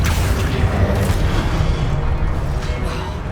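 A Confringo blasting curse explodes in Hogwarts Legacy, a dense, sustained low boom rumbling steadily for the whole stretch with no voices.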